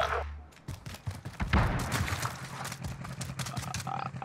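AMAX rifle fire in Call of Duty Warzone on Rebirth Island during heavy rain: rapid bursts of close gunshots in a dense run, loud and continuous across the moment, with faint background voices.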